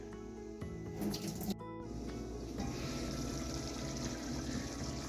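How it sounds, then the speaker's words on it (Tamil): Water running and splashing steadily as soaked rice is drained for chicken biryani, a continuous sink-like pour with a brief dip midway, close and fairly loud. "ஊற வச்சு சாமியில இருந்து தண்ணியை வடிச்சிடுறோம்."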